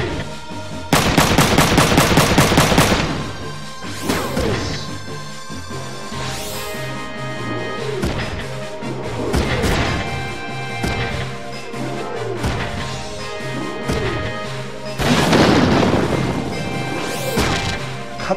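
Mech melee punches land in Front Mission 3 with heavy crashing impacts and bursts of rapid gunfire-like hits, loud battle effects over a background music score, no talk.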